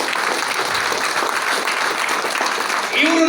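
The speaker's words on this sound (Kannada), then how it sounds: "ಒಂದು ಸಣ್ಣ ಚಪ್ಪಾಳೆ ಇರಲಿ ಸರ್" Audience applause welcoming a guest at a gathering, a steady wash of clapping throughout that swells slightly louder near the end, with a voice briefly heard over it.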